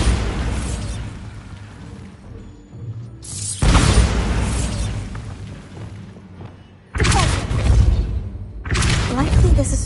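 Bombarda blasting spell explosions in Hogwarts Legacy, heavy booming bursts with deep rumble, loud and close, recurring several times with quieter rumbling gaps between them.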